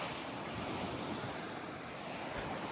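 Sea waves wash steadily onto the shore at Bihing Tahik Resort in Tawi-Tawi, a continuous broad surf roar mixed with wind buffeting the microphone, with no voices.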